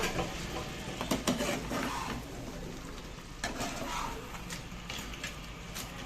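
Crab curry simmers and bubbles quietly in a pan with soft, irregular crackles. A few scraping clicks of a lid or utensil can be heard.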